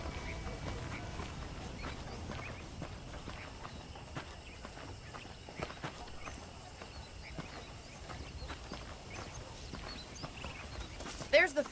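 Horse hooves clip-clopping in Red Dead Redemption, steady soft walking beats at moderate distance with light ambient background, no talk.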